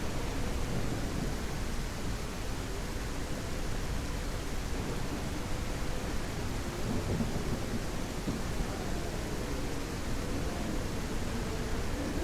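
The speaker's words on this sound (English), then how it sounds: "It's storming again. Day 2 of the storm." A video-game thunderstorm with heavy rain, a steady dense roar of rainfall with low rumbling thunder underneath, loud and continuous with no talk.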